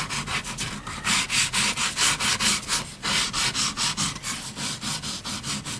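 Sandpaper of 220 grit rubs back and forth across an acoustic guitar pickguard in quick, rhythmic strokes, each pass a close, raspy scratch, with no voices over it.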